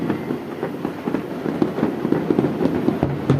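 New Year fireworks burst at night in a rapid, irregular string of sharp crackling pops and bangs, some close and loud, others fainter, with no pause between them.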